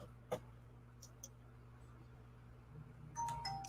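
A faint two-note ding-dong chime of a doorbell sounds near the end, following a quiet stretch broken by a few soft clicks and a low steady hum.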